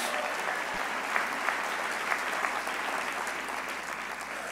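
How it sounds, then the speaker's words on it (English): Steady, dense applause from a large audience at the Atlanta mayor's State of the City address, a continuous wash of clapping with a few sharper claps poking out across the whole stretch. "Give them a round of applause, everybody."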